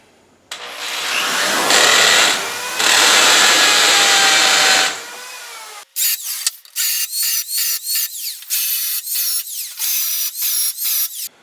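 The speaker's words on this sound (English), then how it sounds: "I'm just going to mark all my holes and then come back and drill them." A power drill whirs loudly in two long runs, then a series of short, sharp bursts follows in quick succession while drilling holes for garage shelves, close and with no voices.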